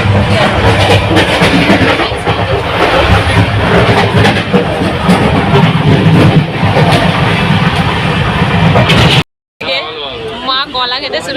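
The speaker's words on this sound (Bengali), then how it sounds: "হাওড়া থেকে আমাদের ট্রেনটা ছাড়লো আর কি।" Passenger train rolling out of Howrah station, heard from inside the carriage: a loud, continuous rumble and rattle of wheels on track with voices throughout, then a brief cut and quieter cabin noise at the end.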